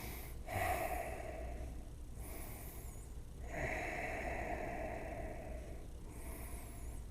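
Slow, deep breaths drawn in and let out while seated in a yoga squat, each long airy inhale and exhale close and clearly audible with no talking.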